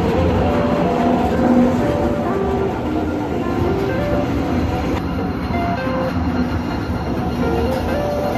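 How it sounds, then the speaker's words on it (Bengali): A toy train ride at Nicco Park amusement park in Kolkata: a steady, loud rolling rumble with faint wheel clatter runs unbroken throughout, with no talking. "রোদের মধ্যে টয় ট্রেনটা ছাড়ে এখান থেকে।"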